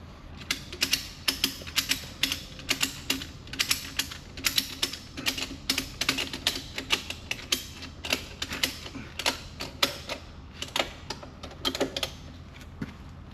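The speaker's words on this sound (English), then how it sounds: "put either mill felt or rubber in to protect the wheel from the ratchet, and then tighten it down." A ratchet tightens a winter tire cleat onto a semi truck wheel, with mill felt or rubber padding against the wheel. Rapid, irregular metallic clicks repeat steadily for about thirteen seconds, close and moderately loud.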